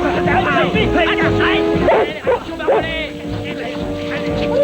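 A fighting dog named Chips barks and yips in short excited bursts amid several people shouting in French, with a whimper mixed in and the barks close but partly buried under the voices.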